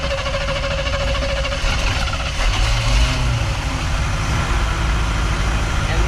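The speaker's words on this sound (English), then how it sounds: "So it does fire up for being, you know, a carbureted car" A carbureted 4WD van engine cranks and fires up, settling into a loud, rough, steady running rumble close by, with a rise in revs around the middle.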